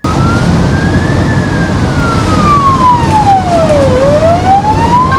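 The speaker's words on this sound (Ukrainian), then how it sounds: "звуковий сигнал та проблискові маячки увімкнені" Loud ambulance siren on a city street, its wailing tone sweeping slowly up and down over heavy traffic rumble, continuous and close throughout.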